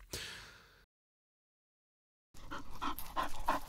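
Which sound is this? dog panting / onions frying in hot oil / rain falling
dog panting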